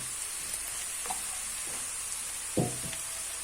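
Steady broadband hiss of onion frying in oil in a pan, with a few soft utensil knocks and clatters, one louder clank near the end.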